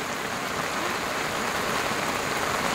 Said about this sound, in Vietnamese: chuẩn bị về ông trời chào đón mọi người một cơn mưa cả nhà